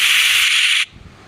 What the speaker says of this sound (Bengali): এখন ভেজে নেবো আমি মাছগুলি